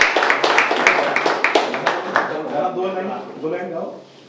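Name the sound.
applause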